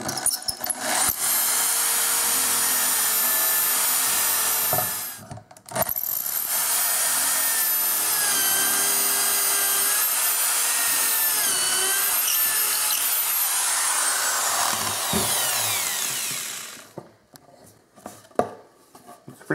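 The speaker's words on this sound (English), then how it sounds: "I found that it works best to use a high-speed drill for this to get this bit going really fast" A high-speed drill spins a bit into wood while holes are made in an office desk hutch, with two long, loud, whining runs, a brief pause between them, then a few faint clicks after the motor stops.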